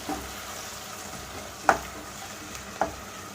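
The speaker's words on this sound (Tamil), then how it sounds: "தக்காளி வெங்காயம் நல்லா கூட சேர்ந்து நல்லா வதங்கட்டும்" Chopped onion and tomato sauté in oil for a pepper chicken gravy, with a soft steady sizzle and two sharp clinks of a spoon on the pan, no voices.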